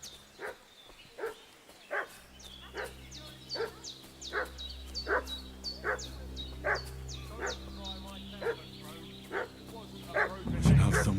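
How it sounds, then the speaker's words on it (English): Dog in the video game Kingdom Come Deliverance 2 barking repeatedly at a steady rhythm, each bark sharp and fairly close, with a low ambient hum underneath and a louder thump near the end. "What's that dog making such a fuss about?"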